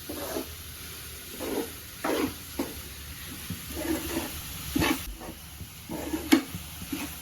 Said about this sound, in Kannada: ಇದನ್ನೆಲ್ಲ ಸೇರಿಸಿ ಫ್ರೈ ಮಾಡಬೇಕು